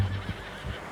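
A horse whinnies with low snorting bursts in Red Dead Redemption 2, close and fairly steady over a soft background, with two short louder pulses.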